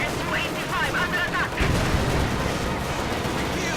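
Gunfire in a WWII tank battle video game with T-34s and a Panzer IV, a dense rumbling volley of distant shots and booms running continuously beneath a talking voice.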